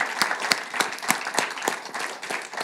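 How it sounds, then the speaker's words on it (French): Audience applause at an evening debate event, a modest group clapping with distinct sharp claps in a loose rhythm over a soft background of hands, fairly close and moderate in loudness. "je vous demande aussi de l'applaudir"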